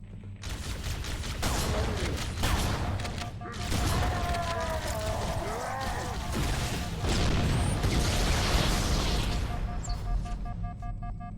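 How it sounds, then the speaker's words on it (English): Explosions and gunfire in the Halo Anniversary video game burst in a dense, continuous barrage of booms, blasts and rapid shots, loud throughout with no pauses. "Always with the big explosions in this game."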